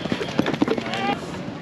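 Horse hooves clip-clop at the Sonpur horse fair, a few uneven hoofbeats on dusty ground, partly buried under crowd noise and nearby voices.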